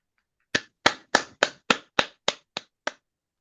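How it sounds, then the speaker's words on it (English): One person clapping alone, about nine sharp, separate claps in a slightly slowing rhythm, close and distinct against silence, during an online poetry reading. "Please, everybody, unmute and give Margaret a big round of applause"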